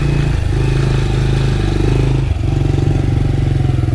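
Loud, close ATV engine revving hard and steady with a rough, clattering exhaust note, dipping briefly midway before picking back up, without talk over it.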